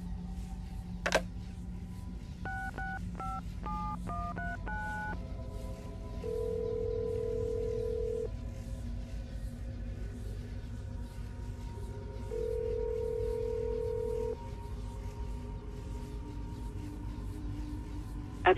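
Telephone keypad tones from a phone call in Assassin's Creed Brotherhood: a quick run of about nine short dialing beeps, then two longer steady ringback tones separated by a pause, over low background hum.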